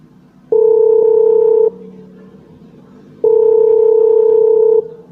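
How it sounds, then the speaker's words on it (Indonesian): A telephone gives two long, steady ringback tones with a pause between them as Dava calls his father, loud and close with no voices. "Dava pun menelpon ayahnya."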